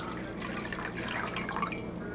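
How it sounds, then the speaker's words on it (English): Water from a pitcher pours and trickles into a plastic cone for gold panning, a soft continuous splashing flow heard alone at close range for a couple of seconds. "I'm gonna go ahead and pour this pitcher of water in here"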